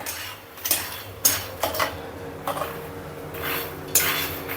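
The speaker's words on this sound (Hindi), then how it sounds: "अभी मेरे पास बीज हैं तो उनको भी भूनूंगी" Seeds roasting on low heat in a pan are stirred with a utensil, which makes irregular close clinks and scrapes against the metal, with a faint background hiss between strokes.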